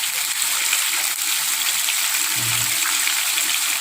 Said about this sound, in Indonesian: tentunya saya akan tambahkan air